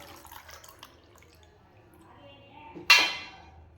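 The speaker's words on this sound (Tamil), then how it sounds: "இப்போ வந்து நம்ம இந்த புளி தண்ணி இதுலேயே சேர்த்துக்கலாம்." Tamarind water is poured into cooked, mashed lentils for a thick millet-rice dal, giving a brief splashy pour near the end after a stretch of quiet kitchen clinks and background talk.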